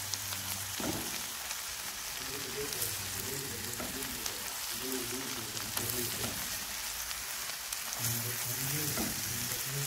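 Garlic paste frying in a pan for shakshuka, a steady close sizzle with faint stirring scrapes throughout.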